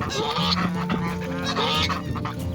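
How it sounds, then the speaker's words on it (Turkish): Wild geese honk loudly and repeatedly up close, several overlapping calls in quick succession. "Evet arkadaşlar hiç yaban kazı gördünüz mü siz? Bakın var yaban kazı."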